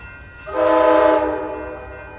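An Amtrak Coast Starlight train with P42 locomotives sounds its horn once at Oakland Jack London Square, swelling in for about a second and fading away over a low rumble of the passing train.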